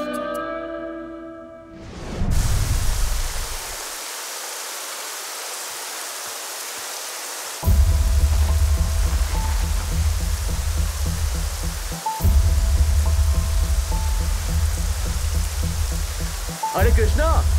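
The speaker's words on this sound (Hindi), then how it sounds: "बारिश बहुत तेज हो रही है" Heavy rain falls in a scene from a Hindi-dubbed South Indian film, a steady dense hiss that continues throughout, with a brief quieter moment near the start and low musical tones entering partway through.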